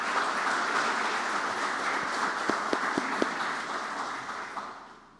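Room of people applauding in a round of applause for Alicia at a White House roundtable on zero-emission freight infrastructure; steady dense clapping holds for about five seconds with a few sharper claps, then fades out.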